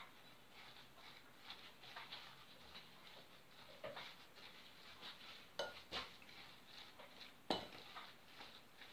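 A spoon stirs a cheese filling mixed with rum, lemon juice and lemon and orange zest in a bowl, soft scraping and light clinks repeating close by at low volume.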